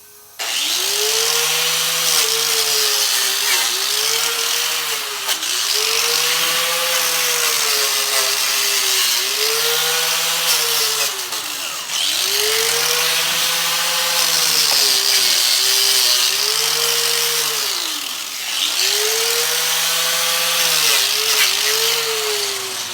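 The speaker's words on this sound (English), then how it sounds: "I got my wire wheel handy." A wire wheel on a power tool scrubs a badly rusted C-clip during ball joint replacement on a 2002 Chevy Trailblazer, loud whirring bursts rising and falling in pitch as the tool is repeatedly revved and eased, close up with no talk.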